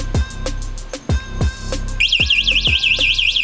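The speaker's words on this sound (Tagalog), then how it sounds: "So para ma-check natin kung gumagana yung anti-theft alarm na yan" Anti-theft alarm on a cheap 500-watt e-bike, triggered by spinning its wheel: loud repeated electronic beeps and chirps at first, then a rapid warbling siren pattern that keeps cycling, close and piercing.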